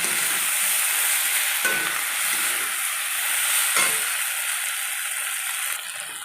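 Soybean curry gets stirred in a frying pan, a steady bright sizzle running throughout with a couple of sharp scraping strokes of the spoon against the pan, close and loud, no talking.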